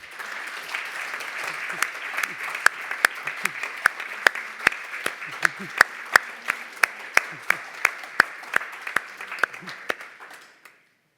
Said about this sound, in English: let's give an applause to Daniil, Triin and Jarko.